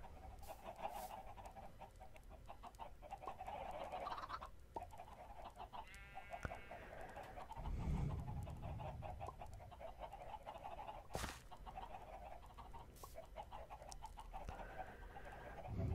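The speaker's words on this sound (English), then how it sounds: "how am I going to get the chicken out of there?" Minecraft chicken clucks come in a few short, soft game-sound bursts over a quiet background with scattered clicks and faint noise.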